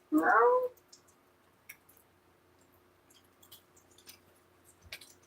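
A single close cat meow at the start, followed by faint clicks and small handling noises in a quiet room.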